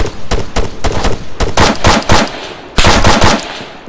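Loud M4 rifle fire in the video game Arma III, several rapid bursts of close automatic shots separated by short gaps.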